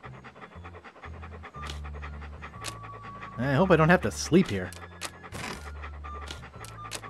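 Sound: dog panting, from the video game Monkey Island 2

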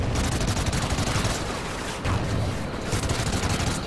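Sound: gunfire from a gun in the video game Call of Duty Ghosts

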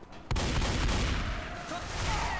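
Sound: gunfire in video game Left 4 Dead 2

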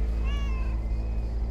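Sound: cat meowing in the video game Lake

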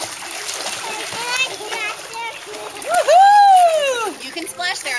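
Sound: child splashing in a swimming pool

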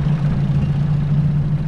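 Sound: 1963 Evinrude Big Twin 40hp outboard motor running

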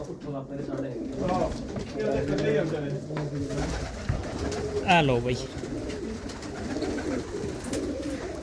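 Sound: racing pigeons cooing

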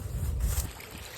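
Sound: running water at a well

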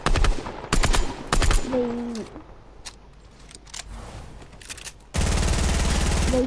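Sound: gunfire with infinite ammo in Fortnite video game

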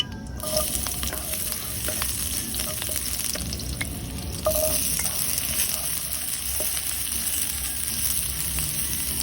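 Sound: sautéing garlic, onion and ginger in a pan

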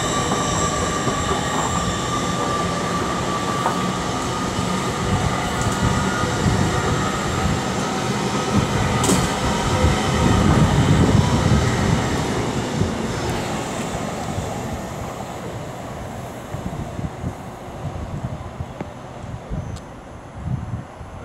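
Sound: train 801 209 passing at Peterborough, East Coast Main Line

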